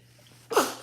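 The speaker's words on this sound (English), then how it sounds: "I have to sneeze." A single sharp sneeze bursts out close to the microphone after a brief quiet breath, loud and abrupt with a fading breathy tail.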